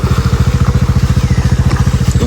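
A motorcycle engine crossing floodwater, loud and close, its low exhaust beat pulsing in a fast, steady rhythm with light rattling on top and no talk.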